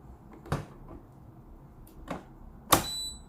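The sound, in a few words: locking a part into a De'Longhi coffee machine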